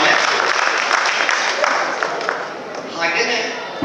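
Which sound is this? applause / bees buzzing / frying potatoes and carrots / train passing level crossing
applause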